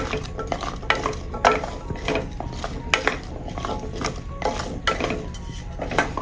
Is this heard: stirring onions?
yes